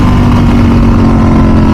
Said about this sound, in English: The bike pulls so fast